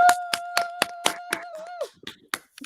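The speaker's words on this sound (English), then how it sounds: "Keontae, we need a round of applause." Evenly spaced claps ring out crisply in a steady rhythm over a sustained held tone, then thin out into a few scattered, softer claps.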